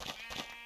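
Two short, soft bleats of a Minecraft sheep in quick succession, faint and slightly electronic in character.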